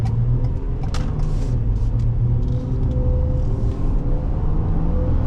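Ford Police Interceptor Utility Hybrid with the 3.3L engine accelerating, a steady, loud low engine drone and road rumble filling the cabin continuously, without talk.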